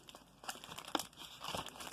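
Taped photo cards from the 1940s to the late 1950s are peeled free with faint, close crinkling and soft tearing rustles in quick, irregular bursts.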